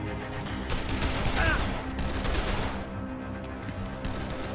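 A burst of rifle fire rattles out in the zombie video game Dead Island, a cluster of rapid sharp shots packed into the first couple of seconds and then easing into a lower, rumbling game background.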